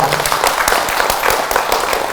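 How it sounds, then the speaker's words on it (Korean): An audience at a meditation expo in Seoul claps together, a loud dense burst of hand claps with sharp individual slaps running steadily for about two seconds. "박수 한번 해주시기 바랍니다."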